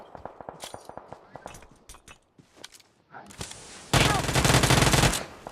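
Gunfire in the battle royale shooter PUBG Mobile: scattered single shots and footsteps give way to a loud, sustained burst of automatic fire at close range, with light speech-like sounds mixed in.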